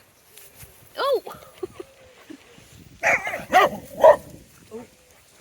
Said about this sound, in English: There's a dog kicking off somewhere else.